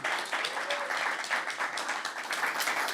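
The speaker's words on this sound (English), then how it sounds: "Please give a round of applause to our amazing photographers." Scattered applause from a small audience at a live photography talk on ageing, a steady patter of hand claps lasting the whole moment at moderate, fairly quiet level.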